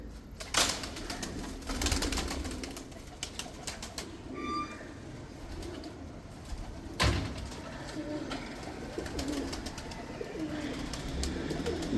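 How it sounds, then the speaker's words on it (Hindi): A Lal Pari pigeon coos softly amid outdoor ambience, with a couple of sharp knocks and faint rustling around it. "ये लाल परी कबूतर है"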